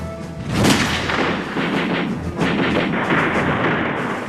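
A light machine gun fires in a dense, continuous burst of booming reports that blur into a heavy rumble, loud throughout with no voices.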